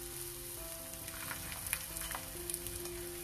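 Jowar thalipeeth fries in oil on a hot tawa, giving a soft, steady sizzle with small pops and crackles throughout, heard close and alone.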